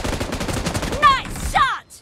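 Gunfire in the mobile shooter game BGMI, a burst of game weapon shots with sharp reports near the middle, followed by a brief electronic effect before the sound cuts out.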